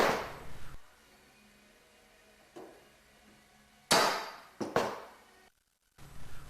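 Sharp metallic strikes from a C-frame dimpling tool pressing dimples into the rib flanges of a Van's RV aircraft rudder, a few loud separate blows with quiet pauses between them in a small workshop.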